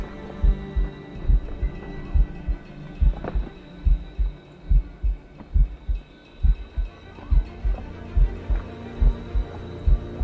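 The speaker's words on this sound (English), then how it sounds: "Moving keeps my heart beating" A heartbeat sound effect from the Assassin's Creed Rogue video game, pounding in a steady, regular rhythm of deep thumps, about sixteen beats over ten seconds, over a low droning hum.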